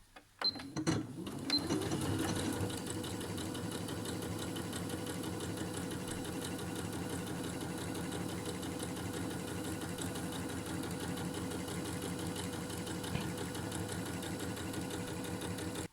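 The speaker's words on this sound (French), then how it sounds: "On va assembler la partie incurvée, tissu endroit contre endroit, et on pique à 1 cm du bord." A sewing machine stitches curved pieces of fabric for a face mask, placed right sides together with a 1 cm seam, running at a steady fast whir for the whole stretch after a brief start.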